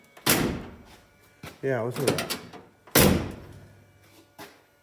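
A heavy door of a 1951 Jeep truck with original door pins bangs loudly twice, opening and then shutting with a solid thud, while someone speaks briefly between the two.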